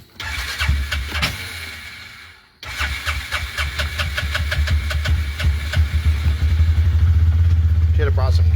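A small engine on a machine cranks with several sputtering pulls, falls silent briefly, then catches and settles into a steady, loud, close idle.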